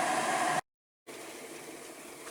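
An electric kettle heating water, a steady close rushing hiss broken by a brief silent cut, no voices.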